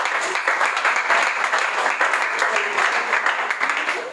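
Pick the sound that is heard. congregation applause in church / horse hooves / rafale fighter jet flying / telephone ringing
congregation applause in church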